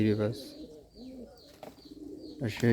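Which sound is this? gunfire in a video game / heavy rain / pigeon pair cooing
pigeon pair cooing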